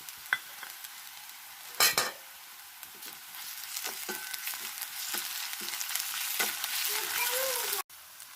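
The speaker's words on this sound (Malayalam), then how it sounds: "ഇനി ഇതിലേക്ക് നമ്മൾ ഇഞ്ചി വെളുത്തുള്ളി പേസ്റ്റാണ് ഇട്ട് കൊടുക്കുന്നത്." Ginger garlic paste hits onions in a hot pan, frying with a steady sizzle under repeated scraping stirs and a sharp clatter early on, moderately close and without voices.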